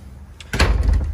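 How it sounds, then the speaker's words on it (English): A solid wood interior door in a 2020 Keystone Avalanche 313RS fifth-wheel RV shuts with one close, heavy thud and a brief rattle after it. "All the doors are real solid wood doors."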